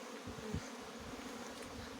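Honeybees buzz steadily around a hive after winter, a close, continuous hum with no voices.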